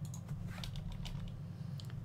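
Quick, light computer keyboard typing during a Minecraft modpack tutorial, a soft scattered run of key clicks over a steady low hum with no one talking.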